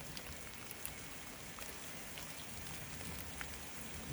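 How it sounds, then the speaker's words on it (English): Steady rain falls in the Pacific Northwest, a soft, even hiss of drops on surfaces with occasional sharper drips, faint and continuous throughout. "it of course has decided to rain exactly now."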